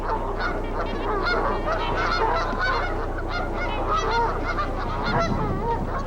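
Swans honking outdoors in winter in Monticello, Minnesota, a noisy flock calling over and over, loud and close, layered over a low steady rumble.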